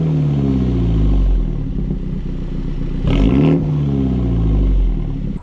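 A 2021 MINI JCW GP with a JCW Pro exhaust revs loudly nearby, its engine tone climbing and falling in sweeping pitch, with a brief harsher burst midway before settling again.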